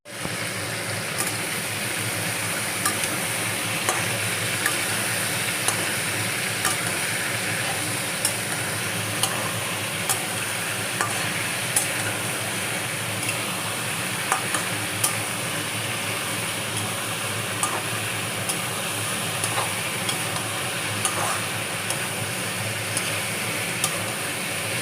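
Mixed vegetables coated in gram flour are stir-fried in a pan, giving a loud, continuous sizzle with regular light clicks and scrapes of a spatula tossing them back and forth throughout.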